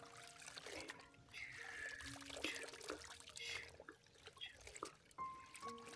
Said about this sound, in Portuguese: Deixa eu mexer a água para enxaguar esse sabonetezinho.